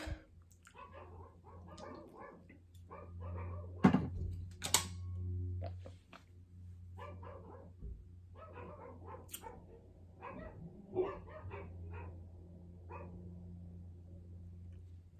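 Several dogs bark in short, sharp bursts around the middle and later stretches, over a steady low hum, with a few softer yelps between the louder barks.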